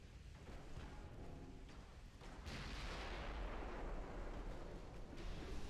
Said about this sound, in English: Oh, we just took an ammo detonation.